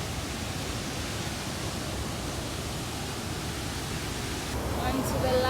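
A rushing waterfall, a steady dense roar of falling water filling the whole clip at even loudness, with a faint voice appearing near the end.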